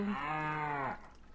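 A single drawn-out cow moo from the game Rusty Lake Paradise, triggered by clicking the cow's nose: one clear, tonal, slightly bleating call lasting under a second, then quiet.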